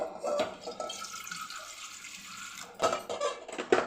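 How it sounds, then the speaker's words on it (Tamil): Water pours from a tumbler into a cooking pan while making tomato chutney, a steady close splashing stream lasting about three seconds, followed by a few light clinks, with no talking. "ஒரு டம்ளர் தண்ணி ஊற்றிக்கிட்டேன்"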